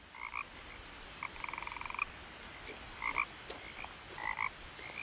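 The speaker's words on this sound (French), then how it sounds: "Il y a une grenouille là." A frog croaks in the video game What Remains of Edith Finch, quiet rhythmic bursts of rapid ribbits and short croaks repeating over a soft ambient background.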